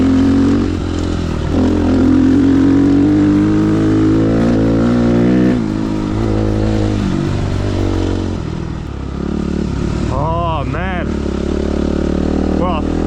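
A motocross bike converted for enduro use revs and pulls hard while being ridden, its engine note rising and falling through the gears, loud and close, with a rider's excited exclamations over it.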